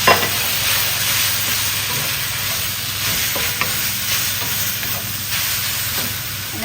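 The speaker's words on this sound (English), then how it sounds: "And then we're going to add the beef, the peppers, back in." Beef and Anaheim peppers stir frying with ginger and garlic, a loud continuous hissing sizzle with occasional scraping and tapping from the stirring, up close and without voices.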